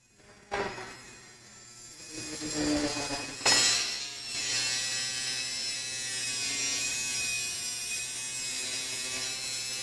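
A household vacuum cleaner is switched on after a few clunks and rattles, then runs as a loud, steady motor whine and rush that continues unbroken to the end.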